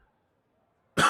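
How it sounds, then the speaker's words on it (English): A single harsh cough bursts out near the mic after a second of near silence, loud and brief, from a man whose lingering cough has stuck around all week. "Still have that cough sticking around."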